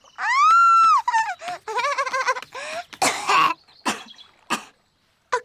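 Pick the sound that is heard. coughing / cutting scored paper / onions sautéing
coughing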